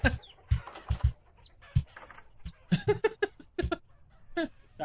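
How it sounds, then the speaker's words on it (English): Chickens cluck in a video game during a first playthrough, a run of short, close, scratchy clucks and squawks in irregular bursts. "I spawned into fucking chickens."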